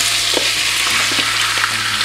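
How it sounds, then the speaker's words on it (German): Meat for goulash sears over high heat in a pan, a loud, dense, close frying hiss with a low steady hum beneath it and occasional small pops. "Das braten wir schön scharf an."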